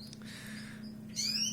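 Newly hatched Leghorn chicks in an incubator give high, thin chirps, a few faint peeps followed by a brighter burst of cheeping near the end over a low steady hum.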